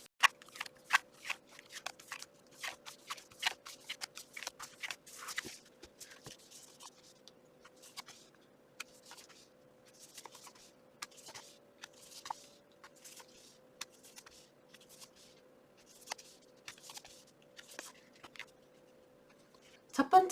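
A deck of tarot cards is shuffled and drawn in a quiet room, giving a steady run of dry, crisp riffles and flicks alongside a faint steady hum, with a brief louder rustle at the end.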